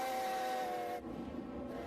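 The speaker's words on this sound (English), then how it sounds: "Every time the toot of a steam locomotive's whistle fills the air" A steam locomotive whistle on the Strasburg Rail Road sounds one sustained, loud toot, then cuts off into hissing steam.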